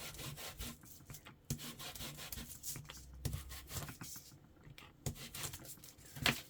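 Rubbing and scraping on the paper surface of a paper bag journal page, a close, soft, continuous scratchy friction with several sharper strokes, no talk.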